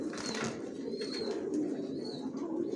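Original racer pigeons of the Johnson line, kept as young birds for sale, coo in a low, steady, continuous murmur with a few faint higher calls above it. No one speaks.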